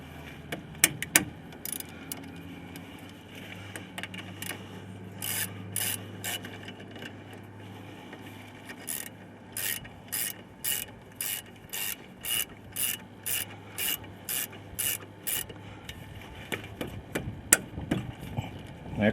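Caliper bolts being tightened on the disc brakes of a 2002 Ford Ranger Edge, with a faint run of regular ratchet clicks in quick, even bursts over low background hum.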